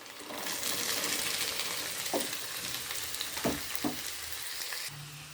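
Onions fry in a pan for a cauliflower masala with a soft, steady sizzle. A few sharp clinks of a spoon against the pan sound near the middle and end.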